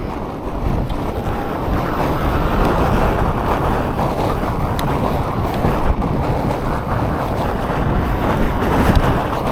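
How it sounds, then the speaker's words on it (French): Steady, roaring wind buffets the microphone throughout, a loud continuous rumble with gusty swells and no voices. "On a tout un vent aujourd'hui."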